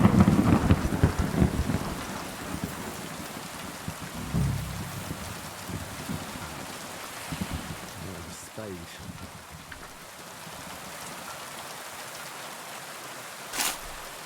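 Rain in the medieval role-playing video game Kingdom Come Deliverance 2, a steady soft patter on surfaces with rolling thunder early on and a sharper crack near the end, faint behind the game sounds.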